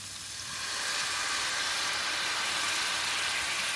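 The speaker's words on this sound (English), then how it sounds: "we will deglaze it with another 4 ounces of sherry and Pinot Noir" A hot pan deglazed with sherry and Pinot Noir for hunter sauce, a broad steady hiss and sizzle that swells in within the first second and holds loud and close, with no talking.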